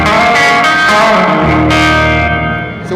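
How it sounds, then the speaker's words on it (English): A Catalinbread Talisman plate reverb pedal emulating an EMT 140, played through a guitar amp, gives loud sustained guitar chords a wide, washy tail of reverb that rings on and slowly fades. "the quality of the plate reverb that we found is it gives you that sense of space"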